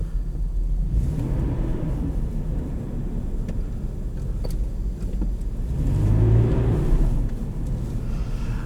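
Engine of a 2010 Nissan Xterra S accelerating on a test drive, heard from inside as a continuous low rumble with road noise, swelling as it revs up near the end.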